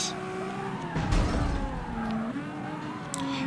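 A tuned 32R car drifting in CarX Street, with steady engine drone and tyre skid squeal that rises and dips across a few seconds, close and continuous.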